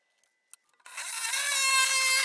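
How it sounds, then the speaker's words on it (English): Metal plate being cut for the outer sill of a rusty Skoda Fabia Mk1 under repair: a few faint ticks, then a loud, sustained harsh whine of a power tool biting into sheet steel, steady and close. "I then cut another plate out for the outer part of the sill"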